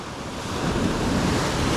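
Ocean surf at a beach break with a west wind, a broad steady roar of breaking waves building slightly louder, mixed with wind buffeting the microphone, no voices.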